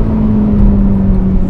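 McLaren 750S supercar, 2025, at full throttle on a winding road, its engine giving a loud, steady exhaust drone with a strong low hum. The burst is short and continuous, with no talking.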